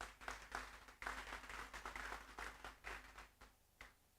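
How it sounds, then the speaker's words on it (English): Thin, quiet clapping from a small audience at a cold-morning seminar launch, scattered hands forming a soft, uneven patter that tapers off toward the end. "I think our clap is not loud enough"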